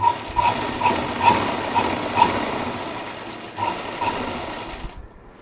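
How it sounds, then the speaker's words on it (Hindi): A sewing machine stitching a strap onto a handmade travel bag, running at a steady close whir for about five seconds before stopping abruptly. "इसको हम सीधा सिलाई करके ले आएंगे।"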